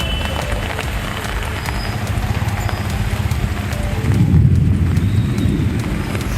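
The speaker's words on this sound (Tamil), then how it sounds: "கோவில்பட்டியில் 3வது நாளாக பலத்த காற்றுடன் கனமழை பெய்தது" Heavy rain pours steadily in Kovilpatti amid strong wind, a dense continuous roar of drops close by that swells briefly louder partway through; no distinct thunderclap stands out.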